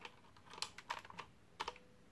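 Keys clicking on a dirty computer keyboard found in the street, several sharp, close taps in short irregular bursts with pauses between them, quiet and alone.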